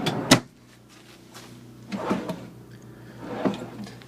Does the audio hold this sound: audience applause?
no